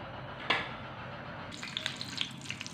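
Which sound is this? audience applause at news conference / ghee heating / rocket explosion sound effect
ghee heating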